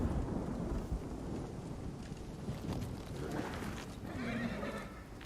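Horse in a video game neighs and whinnies while hooves clip-clop steadily, set against a constant rumbling game backdrop with a thunder-like ambience throughout.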